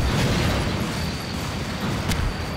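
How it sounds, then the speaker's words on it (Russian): A rocket-propelled grenade blast in Garry's Mod, heard as a loud sustained rumbling roar filling the whole stretch with a brief sharp crack near the end and no voices. "был мега взрыв"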